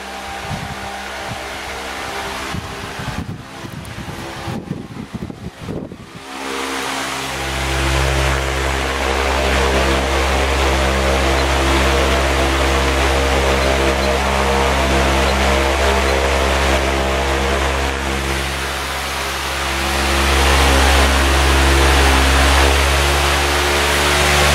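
A 20 inch high velocity fan running, starting with handling clatter before settling into a loud, steady roaring whoosh of moving air with a low hum, close and continuous.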